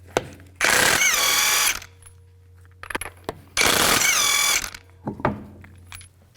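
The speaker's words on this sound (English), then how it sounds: "use a 21mm socket, take the lug nuts off" An impact wrench spins lug nuts off a 2004-2008 Nissan Maxima wheel through a 21mm socket, two loud sustained ratcheting bursts of about a second each, with softer clicks and clanks in between.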